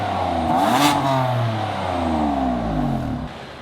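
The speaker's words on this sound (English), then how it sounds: "This is the S55 engine." A 2015 BMW M4 with the S55 engine, bought wrecked, revs hard. The pitch climbs, falls, then sweeps up and down again, loud and close, with no voices over it.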